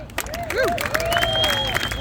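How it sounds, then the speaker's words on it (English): A crowd applauds at a Cesar Chavez road dedication ceremony in Adrian, Michigan, with scattered clapping and rising, sliding whistles cutting through the noise for a couple of seconds. "let's get a round of applause for that."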